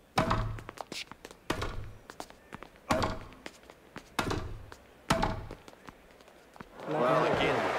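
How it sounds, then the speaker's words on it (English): Grand Slam Tennis 2 on Xbox 360: a series of sharp racket strikes, about six thumping forehand and backhand hits spaced a second or so apart, ending in a louder crowd-like swell, with commentary over it. "that thumping forehand into the backhand corner"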